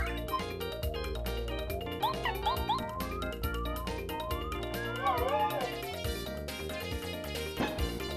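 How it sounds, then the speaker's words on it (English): Cartoonish cat meows rise over busy, upbeat Paper Mario game music at Tubba Blubba's Castle, several short mewing calls scattered through the loop. "They go meow!"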